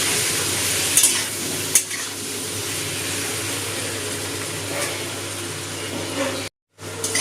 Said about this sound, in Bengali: হলুদটা আলুর সাথে বেশি নিয়ে আলুটা ভেজে নেব।